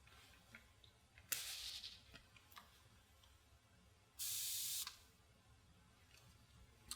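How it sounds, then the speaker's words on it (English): A store-bought air freshener aerosol sprays a fine mist in two bursts of bright hiss, the first about half a second and the second slightly longer and steadier, both faint against a quiet room. "I've got a bottle I bought from the grocery store of an air freshener that produces a fine mist"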